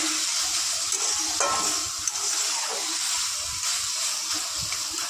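Green leafy vegetables (shak) fry in a pan for Bengali shak bhaja, giving a steady close sizzle and hiss with occasional stirring scrapes and soft clicks.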